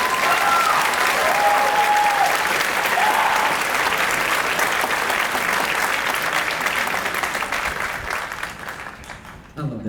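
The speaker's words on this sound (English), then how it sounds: "Everybody give him a round of applause." An audience at a wind ensemble concert applauds a graduating senior with sustained clapping and a few whoops that gradually thin out and fade. A voice is heard briefly over the applause.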